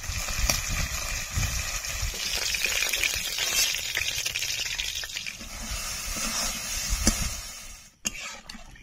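Large ritha fish frying in oil for a potato fish curry, a busy bubbling sizzle with crackles and spatters rising and falling, a brief sharp clatter near the end.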